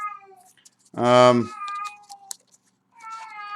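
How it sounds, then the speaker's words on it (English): A cat gives one loud, drawn-out meow close by, with quieter chirpy cat sounds and faint murmurs before and after. "That's my cat."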